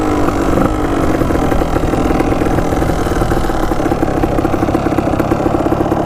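A cheap, rough-running dirt bike engine idles loudly and close with the clutch held in, a constant low mechanical drone with no speech over it.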